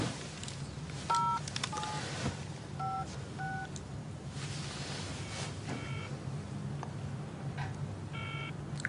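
A telephone number dialed for a call, a string of short keypad tones in small bursts over a low background rumble, faint and with no talking.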